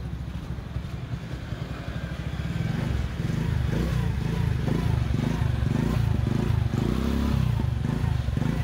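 A motorcycle engine with an AC-type CDI sputters, catches and settles into a loud, steady idle, with a faint voice in the background.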